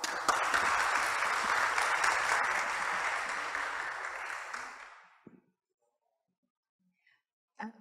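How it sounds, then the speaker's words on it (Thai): An audience at a press conference for a space robot programming challenge claps steadily in welcome for about five seconds, then the applause fades out into near silence broken by a couple of faint knocks. "ขอเสียงปรบมือต้อนรับด้วยครับ"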